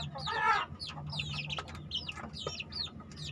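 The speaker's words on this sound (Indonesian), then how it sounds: "Tetapi kalau anakan ayam begini" Young Bangkok chicks around one and a half to two months old, in a breeding phase, give a series of short chirping, clucking calls, fairly close and moderately loud, over a low steady hum.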